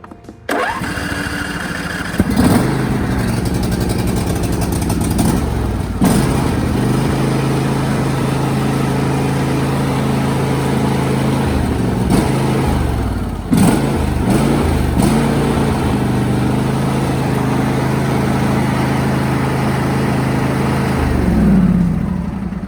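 A John Deere D100 series lawn tractor engine cranks and catches on choke, then runs loudly and steadily with a few brief revs, close by, no talking.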